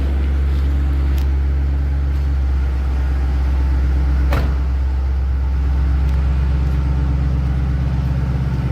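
A 2006 Ford Mustang Saleen S281 with a supercharged engine and center dump exhaust idles steadily with a deep, loud, continuous rumble heard up close, with a few faint clicks and a brief tap over the drone.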